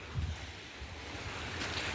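Sea waves washing in along a shore where a car is stuck in the surf, a steady wash of surf and wind noise rumbling on the microphone, no voices.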